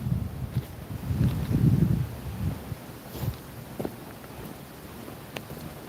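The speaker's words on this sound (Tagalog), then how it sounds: "lakas ng hangin" Gusty wind rushing and buffeting the microphone, strongest early on and easing after a few seconds, with faint rustling and no voices.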